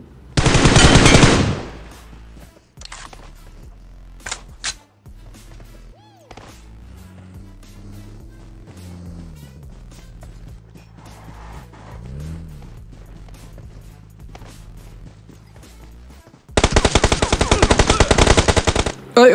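Video game gunfire from a battle royale match: loud bursts of rapid automatic fire at the start and end, with scattered single shots and quieter game sounds between.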